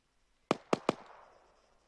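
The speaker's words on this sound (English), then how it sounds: "Shots fired." Three sharp gunshots ring out in quick succession in ArmA III, loud and close, each crack trailing into a short echoing tail.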